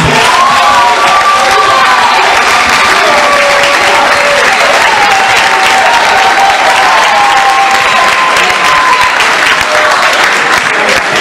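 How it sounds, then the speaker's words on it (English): Sustained audience applause with some cheering on a Ghanaian television show, loud and steady for over ten seconds, with occasional raised voices over the clapping. "In fourth position, a round of applause, please, for Nana Yao."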